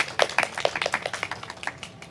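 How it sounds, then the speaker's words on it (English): A child claps for herself, a quick run of close, sharp, fairly even claps over about two seconds with no talking. "please clap for yourself"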